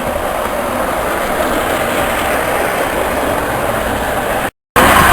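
A heavy loaded trolley coasting fast on rails under its own momentum, a loud continuous rumbling roar up close, broken by a brief dropout near the end, with no speech.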